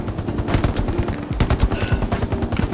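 Rapid automatic gunfire from the video game Hell Let Loose crackles loud and dense, bursts overlapping in a continuous fusillade with no voices.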